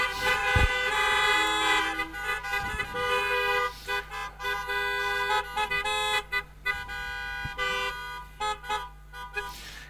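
Car horns honk repeatedly at a drive-in cinema in Aschheim, a dense overlapping chorus of toots and longer blasts from many vehicles, loud and continuous throughout with no talk.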